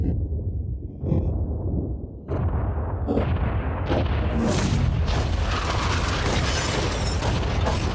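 A yacht is blown up in a run of deep, heavy blasts that build in intensity, ending in a loud, sustained roaring rumble with no talking.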